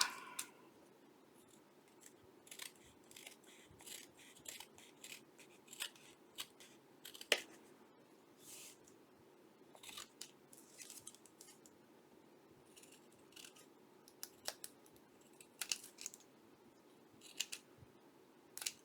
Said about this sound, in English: I imagine I got a little trimming to do over here.